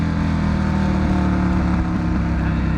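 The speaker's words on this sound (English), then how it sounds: "It makes me really happy that exhaust is not obnoxious." Harley-Davidson Sportster motorcycle exhaust rumbling steadily at close range, a continuous loud low drone with no talk over it.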